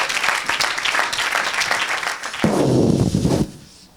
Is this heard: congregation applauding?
yes